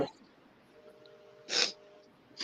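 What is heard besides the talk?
sneeze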